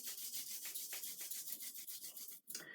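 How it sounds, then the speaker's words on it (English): Two hands rub together vigorously during a Chi Kung exercise, a close, brisk, rhythmic swishing of skin on skin with a short pause near the end before the rubbing resumes. "So we're going to rub our hands together vigorously."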